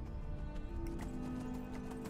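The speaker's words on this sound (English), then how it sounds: "Let me get back on the horse." Horse hooves clip-clop in the video game Skyrim, a quick string of faint hoofbeats over a steady game background hum.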